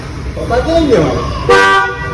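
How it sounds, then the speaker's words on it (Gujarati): A new car's horn gives a short toot and then a longer, louder honk, with voices heard around it. "માર હોરન માં"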